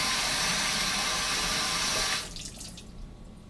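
Tap water runs steadily into a sink for washing underglazed bisque pottery, a loud even rush that cuts off abruptly after about two seconds, leaving faint drips and room noise.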